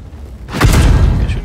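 The gun of an Object 274a tank fires in World of Tanks, a single loud, close boom that bursts in suddenly after a quiet moment and rolls on with a heavy, rumbling tail.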